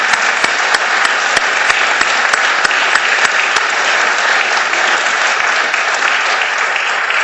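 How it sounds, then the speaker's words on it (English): An audience claps steadily after a set of presentations at a business ethics lecture and award event, dense even applause that fills the room without a pause, loud and close. "Please join me in giving a round of applause for an excellent set of presentations."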